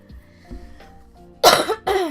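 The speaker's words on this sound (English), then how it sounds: "Sorry for coughing." A couple of soft throat sounds followed by two sharp, loud coughs close to the microphone, with no talking.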